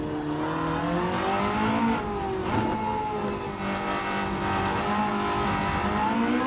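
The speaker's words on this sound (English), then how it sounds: "So let's give the Porsche a go here." A Porsche hypercar engine roars in Gran Turismo 7, a steady, sustained drone that climbs and falls in pitch as it revs and shifts, with a brief sharp rise midway and no voices.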